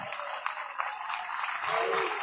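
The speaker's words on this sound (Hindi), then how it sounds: "जोरदार तालियां अभिनंदन" Steady applause from a crowd at a protest sit-in in Bikaner to save khejri trees, a dense wash of clapping that holds evenly and swells slightly toward the end.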